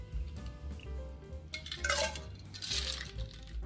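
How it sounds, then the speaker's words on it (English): A drink is poured over a large ice cube in a glass, giving a few light clinks followed by a short liquid splash and trickle, close and fairly quiet, over low background hum. "Pour over a nice large ice cube."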